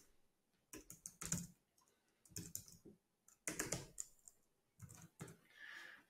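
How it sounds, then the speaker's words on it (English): Bursts of rapid keystrokes on a computer keyboard, several separate runs of close, crisp clicking separated by short quiet pauses, with no voices. "I'll type in my bucket name."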